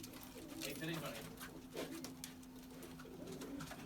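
Domestic pigeons coo from a loft in Bathinda, soft repeated calls running under a man's speech and background noise.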